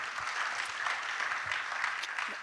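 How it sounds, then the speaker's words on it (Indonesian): A church congregation claps steadily at a Sunday worship service, a soft, even wash of applause heard alone, fairly distant and without voices. "Tepuk tangan gak terlalu penting lah."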